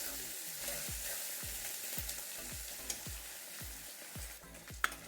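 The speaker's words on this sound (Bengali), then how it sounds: "দিয়ে দিচ্ছি আদা রসুন বাটা। এগুলো একটু ভালো করে ভেজে নেব" Onion and ginger-garlic paste frying in a pan, a constant sizzle with a regular series of soft spatula scrapes and thumps about every half second, close and moderately quiet, no talking.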